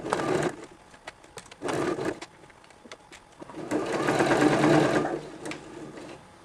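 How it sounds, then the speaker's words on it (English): Sewing machine stitching binding onto a denim apron made from recycled jeans: close, steady mechanical whirring in short bursts, then a longer run, with brief pauses between. "I place the edge of the binding aligned to the edge of the presser foot and I start sewing"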